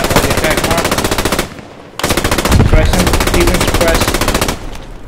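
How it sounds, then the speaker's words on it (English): Sustained machine gun suppressing fire in the World War II shooter game Post Scriptum, loud and close, rattling in long dense bursts broken by one brief pause. "I need the MG to put some suppressing fire over there on that direction."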